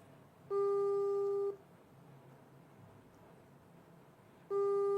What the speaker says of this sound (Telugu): రింగ్ అవుతుంది కానీ ఎత్తలేడు.